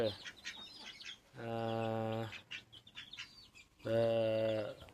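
Chickens cluck and squawk close by, with two long, loud harmonic calls breaking through the shorter clucks and chatter.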